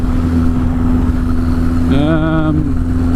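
A Suzuki GS1000 motorcycle being ridden, a loud steady engine drone close to the microphone with wind rush and a brief rising tone near the end.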